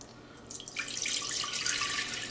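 Apple cider pours steadily into a large 2-quart saucepan, a bright splashing stream that starts a moment in and continues unbroken, close and clear with no talking.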